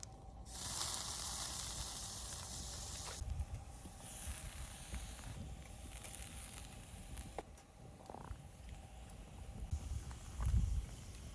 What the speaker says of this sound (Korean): 오늘 저녁은 우대갈비 구워 먹을 거예요